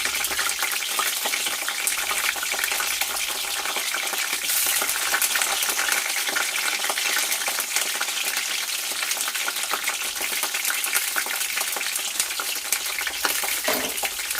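Sliced green chillies fry in a pan of hot oil for chicken majestic, with a dense, continuous, fairly loud crackling sizzle that stays even throughout.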